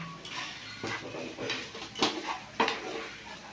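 Semolina pulao with ghee is stirred in a pan, making irregular clinks and scrapes of a spoon against metal at close range, with a couple of louder knocks.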